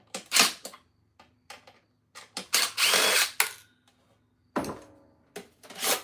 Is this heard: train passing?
no